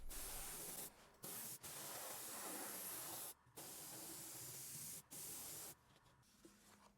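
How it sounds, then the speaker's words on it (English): An airbrush spraying dark dye along leather mask edges gives a soft, steady hiss in several bursts, each lasting one to two seconds, with short pauses between them. It is quiet, close and has no voices. "used some dark with an airbrush along the edges for the dark,"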